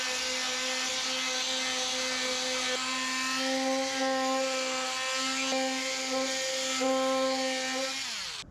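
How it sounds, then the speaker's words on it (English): A power sander whines steadily against the snapped tail edge of a surfboard being repaired, a loud continuous motor tone with slight pitch shifts as pressure changes, winding down at the end. "I'm just gonna sand that edge back to the tape"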